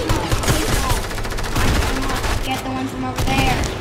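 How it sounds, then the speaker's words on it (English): Rapid bursts of gunfire from a Fortnite duos match crackle densely and continuously, loud and close, with faint talk underneath. "They're just shooting at me, but I don't even care"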